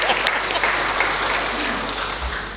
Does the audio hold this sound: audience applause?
yes